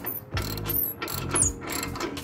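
A ratchet wrench clicks in repeated bursts as it backs a threaded fastener out through a cross member, the quick pawl rattles close and fairly loud with brief pauses between strokes.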